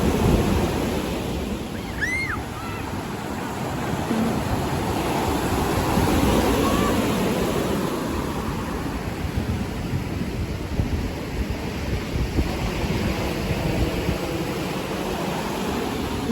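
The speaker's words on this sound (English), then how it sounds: "Quite a few people come down here to check out these waves." Ocean waves roll onto a Bali beach at high tide in a continuous, fairly loud wash of surf, with a single faint chirp early on.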